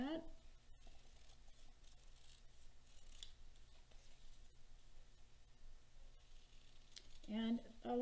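Scissors cut quilt fabric pieces along a pencil line, producing quiet, continuous snipping and rustling close by, with a person speaking at the beginning and end.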